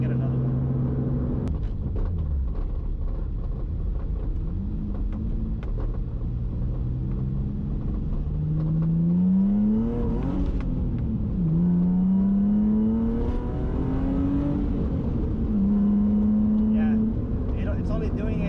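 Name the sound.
Infiniti G35 car launching after slave cylinder change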